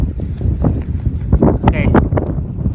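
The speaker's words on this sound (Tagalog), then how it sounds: "Malamig na, mahangin, malakas sa hangin." Strong, cold blizzard wind buffets the microphone in loud, uneven gusts and rumbling bursts, close and continuous, with people talking over it.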